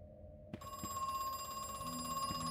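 A telephone in the video game Crow Country starts ringing after a brief quiet moment, then rings on as a steady, sustained electronic tone at low volume.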